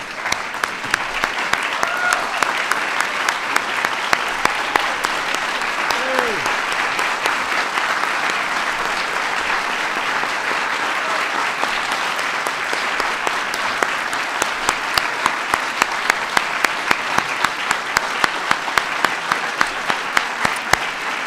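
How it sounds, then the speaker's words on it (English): Sustained applause from a large audience at a Presidential Medal of Freedom ceremony honoring nineteen recipients, a dense, steady roar of clapping with scattered louder claps, lasting throughout without talk. "Let's give them all a big round of applause one more time"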